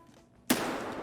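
A single sharp gunshot strikes a Level 6 Hex Grid plate carrier in Escape from Tarkov. Quiet lead-in, then one loud crack that decays into a short ringing tail.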